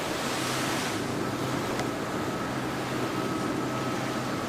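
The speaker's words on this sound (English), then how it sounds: "Big waves, big surfs." Big waves and brisk wind at sea during a 52 Super Series sailing race off Palma, a steady loud roar of surf and gusting wind noise throughout with no talk.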